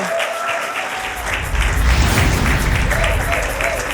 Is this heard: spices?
no